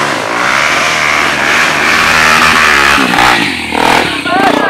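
A motorcycle engine revs loudly and continuously, rising and falling in pitch, with people talking and shouting over it nearby.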